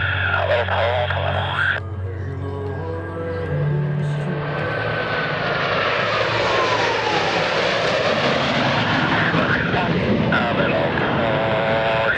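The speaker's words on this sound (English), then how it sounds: "Approaching 350 miles per hour, the 5-plane line abreast flat pass." US Navy Blue Angels jets roar past in a five-plane line abreast flat pass at an airshow, a loud, sustained jet rush that swells and sweeps overhead for several seconds, with a brief announcer voice at the start.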